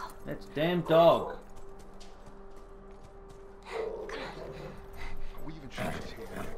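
A dog in The Last of Us video game barks and yelps in short bursts, loud and near, alongside gasping voices and game sound.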